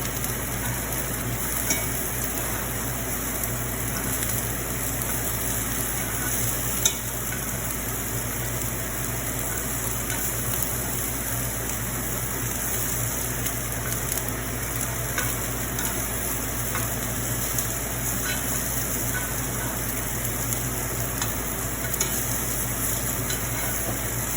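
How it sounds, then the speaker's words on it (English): Scallops sear in a hot pan with a steady, loud, continuous sizzle and occasional faint stirring scrapes, with no talking. "I'm just going to sear the scallops on this and finish the dish off in another pan, a Teflon pan"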